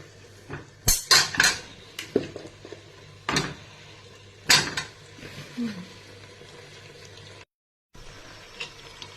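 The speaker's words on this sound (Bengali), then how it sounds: "এটাতে আমি আলুগুলো দেবো।" Potatoes go into a pot of water while cooking in a home kitchen, with sharp metallic clanks and knocks of utensils against the pot, scattered irregularly over a quiet background and then a brief silence.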